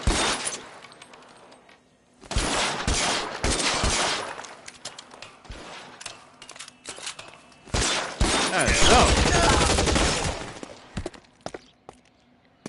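Rapid bursts of gunfire from the 1940s crime game L.A. Noire crackle in two loud clusters separated by quieter stretches, with scattered single shots and a voice speaking at the start.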